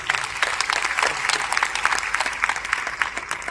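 Loud, steady applause from a seminar audience, many hands clapping continuously for a few seconds with a faint voice underneath.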